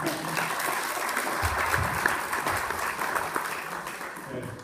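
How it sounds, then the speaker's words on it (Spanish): Steady applause from an audience, a dense wash of clapping that holds at an even level throughout with no voices on top. "Un aplauso de bienvenida."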